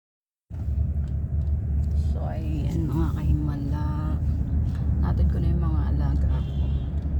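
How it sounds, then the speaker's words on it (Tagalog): Heavy morning road traffic, a continuous loud rumble of car and bus engines close by, with tonal engine whines rising and falling as vehicles move. "Ayan, traffic. Super traffic."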